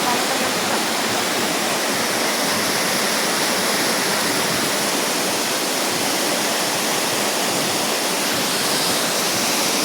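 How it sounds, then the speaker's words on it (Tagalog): Little Kilang Falls, a waterfall, pours with a loud, steady, broadband roar of rushing water that stays constant and close throughout, with no pauses. "Little Kilang Falls."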